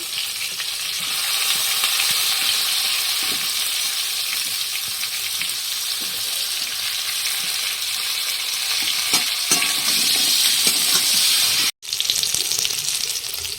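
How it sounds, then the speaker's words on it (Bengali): Potatoes and cauliflower fry in hot oil with a loud, continuous crackling sizzle that holds steady almost throughout, broken only by a brief dropout near the end. "ভেজে নেবো আলুগুলো"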